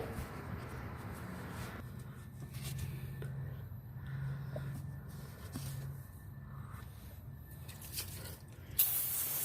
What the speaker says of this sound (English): It's safe to hit this with some brake cleaner just to clean it up really good